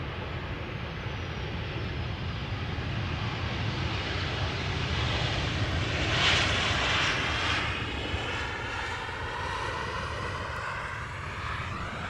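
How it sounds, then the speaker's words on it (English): Etihad Cargo's Boeing 777 freighter arrives at Amsterdam Schiphol from Abu Dhabi, its engines a sustained roar that swells slightly near the middle with a whining, shifting tone as it passes. "in the foreground we have Etihad Cargo flight 913, which is arriving from Abu Dhabi. It is a 777 freighter"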